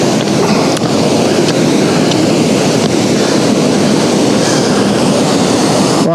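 Water rushing through a lock on the Caledonian Canal at Fort Augustus, a loud, dense, continuous roar of turbulent flow with no break and no speech.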